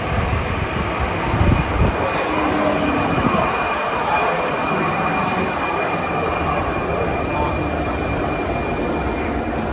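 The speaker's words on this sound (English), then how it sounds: "Here comes that train." A subway train pulls into a station in Prague, a loud rolling rumble with rising wheel squeal and a steady high whine, with crowd noise around.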